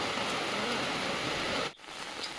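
Monsoon rain falls in a Darjeeling village as a soft, even hiss for a couple of seconds, then cuts away abruptly into quieter ambience.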